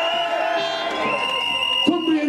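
Outdoor anti-lockdown protest crowd in Manchester cheering and whooping, a dense roar of many voices with shouts rising over it.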